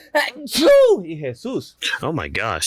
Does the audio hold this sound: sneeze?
yes